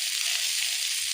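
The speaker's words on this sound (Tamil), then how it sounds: "எண்ணெயில் போட்டு நல்லா ரோஸ்ட் பண்ணி எடுத்துக்கலாம்." Fresh curry leaves fry in hot oil with a steady, close, bright sizzling crackle, continuous and even throughout.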